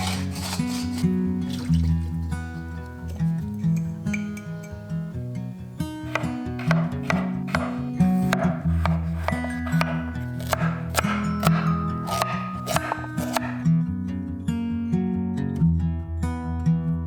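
A knife chops vegetables on a cutting board while ingredients for a slow-cooker pot roast are prepped, giving steady runs of sharp, close taps over soft background music, with no talking.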